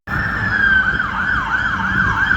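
A fire truck siren passes in London traffic, loud and close, with a steady wailing tone rising and falling in regular sweeps over the low rumble of road traffic.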